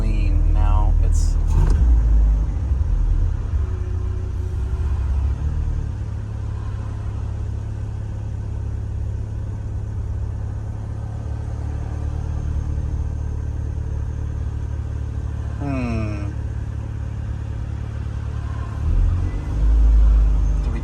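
A Ford Fairmont engine fitted with a 1bbl Sniper throttle body runs on a dyno, a loud steady low idle rumble throughout with a brief rev blip near the start and a faint whine mid-clip, voices talking over it.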